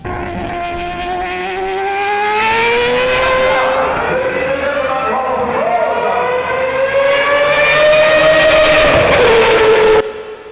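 A Mazda 787B prototype race car with a rotary engine screams past nearby, a loud high-pitched rising wail that shifts up, then fades and cuts off sharply at the end.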